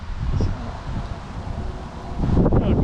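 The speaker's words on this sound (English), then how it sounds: "It's a windy day." Gusting wind sweeps through trees in a cemetery on a windy day, a continuous rustling buffet with low rumbling microphone gusts that swell again near the end.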